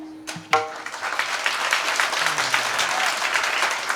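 Applause from a village kirtan audience starts after a brief bell-like tone and a sharp clap, then swells into steady, dense clapping from a large crowd that keeps going to the end.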